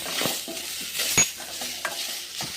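Cumin seeds frying in a pan for ridge gourd chutney, a close sizzle with scraping stirs of a spoon against the pan and a few clinks.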